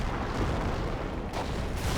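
Self-propelled artillery fires in a Company of Heroes match, a dense, heavy rumble of blasts and booms running through the whole two seconds with no talk.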